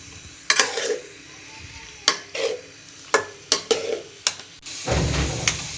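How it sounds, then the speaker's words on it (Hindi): Shawarma filling fried in a pan over high heat, with a quiet sizzle beneath a series of sharp clanks and scrapes from a spatula stirring, ending in a louder burst of frying. "अब हम तेज़ आंच करके इसको अच्छे से फ्राई करेंगे।"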